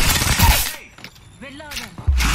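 Video game gunfire: a dense, loud burst of shots at the start, a brief lull with mechanical clicks and tonal game effects, then another harsh volley at the end. Voice chatter sits under the fire.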